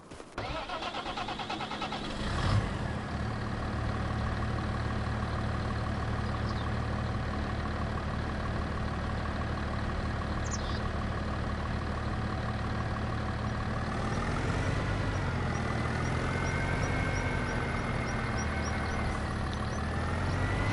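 Tractor engine in the Farming Simulator 25 video game on PS5, starting with a brief crank and then running steadily at a constant loud drone, rising slightly in pitch near the end as it revs.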